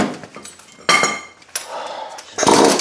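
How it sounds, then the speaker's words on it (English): Metallic clanks and scrapes of a wrench tightening a sway bar end link on a 2006 Honda Ridgeline, with several sharp, loud hits and rattles close by and no talking. "You just put a wrench on it and I'm done."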